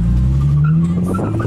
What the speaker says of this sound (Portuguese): Vou parar o carro aqui, ó.